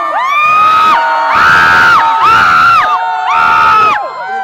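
A large crowd at a fan show in Singapore cheers and screams in three or four loud surging waves, high-pitched shouts and whoops swelling and falling close by.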